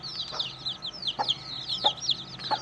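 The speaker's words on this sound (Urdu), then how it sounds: "اور ماشاءاللہ یہ مرغی 3 کلو کی اچھی خاصی ویٹ والی مرغی ہے" An Aseel hen weighing about three kilograms clucks in short repeated bursts, with several distinct calls spaced through the moment, fairly close and clear over a quiet background.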